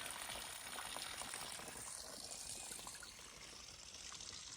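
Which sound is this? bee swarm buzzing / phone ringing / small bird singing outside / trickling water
trickling water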